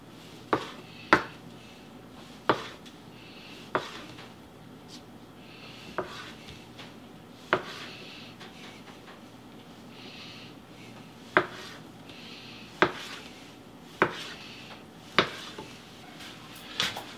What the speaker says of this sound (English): While these carrots are still warm, I want to cut them.